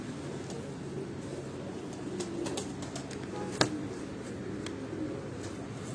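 Sailgodi-breed pigeons coo steadily on a rooftop loft in Chak Beli Road, Rawat, a soft continuous murmur of several birds with faint higher chirps and one sharp brief click near the middle.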